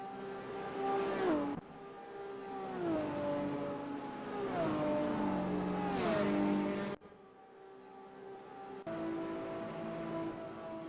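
A race car engine in a sim racing game revs hard through repeated upshifts, pitch climbing and dropping with each gear change, then cuts sharply before settling into a steady mid-range drone; no one talks.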